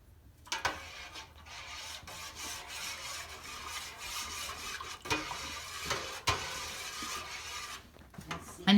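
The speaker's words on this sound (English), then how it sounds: "In goes some tomato sauce or juice or something to make it tomatoey" Tomato sauce being stirred into a pan of gluten steaks, with a steady scraping, rubbing texture and a few sharp clinks of utensil on the pan, moderately quiet and without talk.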